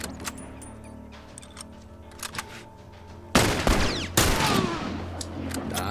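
Two loud, close gunshots from The Last of Us ring out in quick succession after a stretch of faint clicks and rustling, each leaving a bright lingering tail.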